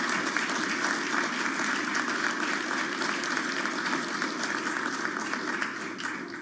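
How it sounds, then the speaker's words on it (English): A round of applause from an audience at an Economic Club of New York event, after an interview with a Federal Reserve governor. The clapping is continuous and fairly loud, holding steady for several seconds before easing slightly at the end. "Let's start with a round of applause."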